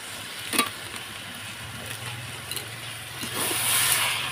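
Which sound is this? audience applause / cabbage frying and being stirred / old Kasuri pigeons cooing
cabbage frying and being stirred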